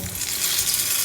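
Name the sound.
banana fritters frying in oil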